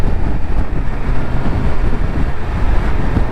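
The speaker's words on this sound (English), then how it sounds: "What a gorgeous engine." A deep, steady Triumph Tiger 1200 Rally Pro motorcycle engine rumble under load, continuous and fairly loud with wind buffeting, no talking.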